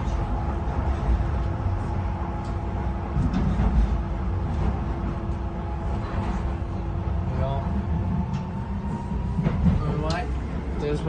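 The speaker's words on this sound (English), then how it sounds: "Here we are on the DLR from Stratford International to West Ham." A Docklands Light Railway train runs from Stratford International toward Stratford, its interior rumble and steady motor hum continuous beneath a person talking throughout, with occasional rattles and squeals from the track.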